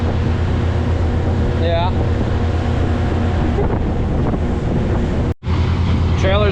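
A roto grinder chewing junk pallets into cow bedding roars loud and steady throughout, with a brief dropout near the end, and a voice speaks briefly over the din.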